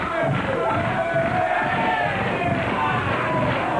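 A wrestling crowd at a televised match shouts and cheers steadily throughout, a dense continuous roar of many voices with scattered bellows and whoops, no single voice standing out.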